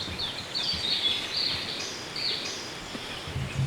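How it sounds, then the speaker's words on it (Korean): Faint birdsong chirps intermittently over a soft, steady hiss of a quiet summer mountain forest near Okcheon, with scattered short calls at a distance. "이 조용한 곳에 새소리, 바람소리, 물소리가 가득하네."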